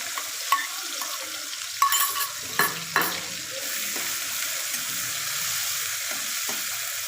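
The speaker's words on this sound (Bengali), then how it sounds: "তেল গরম হয়ে গেছে, আমি রসুন আর লঙ্কাটা তেলের ওপর দিয়ে দিলাম।" Garlic and green chili dropped into hot oil in a pan, a soft steady sizzle with a few sharp crackles and spits early on, then a continuous frying hiss, no talking.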